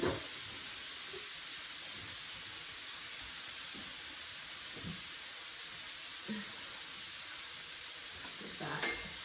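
Pork sizzles in a hot pan for a stir fry, a steady bright frying hiss running throughout, with faint occasional stirring scrapes beneath and a louder clatter near the end.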